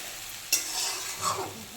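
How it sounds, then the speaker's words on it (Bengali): Small fish fry in a pan with a soft steady sizzle while a utensil stirs them, giving a sharp scrape near the start and a second, lighter scrape shortly after. "এটা একটু ভাজা ভাজা হবে একটু নাড়িয়ে চাড়িয়ে দেবো"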